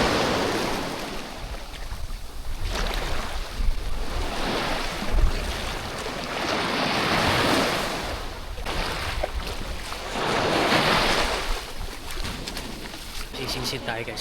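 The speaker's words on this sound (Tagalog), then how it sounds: "Maalon kasi talaga." Rough sea waves surge and break in repeated swells under gusty wind noise in San Jose, Daram, Samar, with a voice talking over the rushing water.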